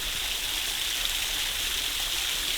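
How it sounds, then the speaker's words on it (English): Waterfall at Big Branch Falls in a natural alcove in the Tennessee backcountry, a steady, full rushing roar of falling water that holds evenly throughout, with no voices. "leading us to a natural alcove with a waterfall called Big Branch Falls"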